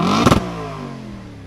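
A 2015 Audi RS5 B8.5 with the 4.2-litre V8 and stock exhaust revs once, a sharp close burst of engine roar that quickly settles into a falling, steady exhaust drone.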